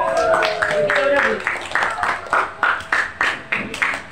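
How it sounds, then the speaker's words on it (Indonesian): Classroom students clapping for a classmate, a run of rhythmic claps that grows clearer in the second half, under and after a voice speaking at the start. "Ayo kita beri aplaus pada teman kalian"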